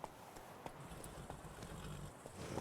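A horse's hooves clip-clop in The Witcher 3: Blood and Wine, faint, steady trotting beats over a low ambient background.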